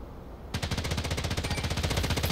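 Rapid automatic gunfire in Delta Force Hawk Ops kicks in abruptly after a quiet moment, a steady loud stream of evenly spaced shots with no pauses or speech.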